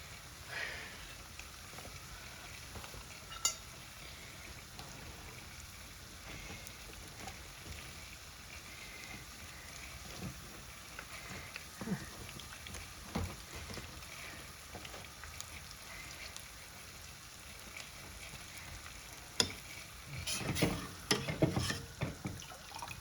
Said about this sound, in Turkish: Bütün yağ sıçrıyor vallahi